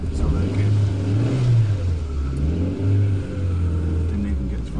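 A car engine revs in low gear, a steady low rumble that rises and falls in pitch, loud and close throughout.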